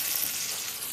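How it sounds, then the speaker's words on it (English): Chicken frying in a pan on a stovetop, a steady bright hiss and sizzle that runs continuously and close, with no voices. "on the stove back here we got some chicken frying up while I make the salad"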